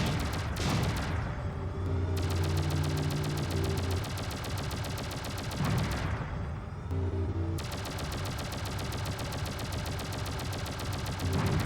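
Video game gunfire rattles in dense, continuous bursts as wreckage is shot, loud and close, broken by two brief pauses, with no speech.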